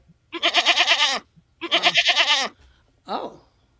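A goat bleats loudly and close by in two long, wavering cries, each lasting about a second, followed by a shorter bleat.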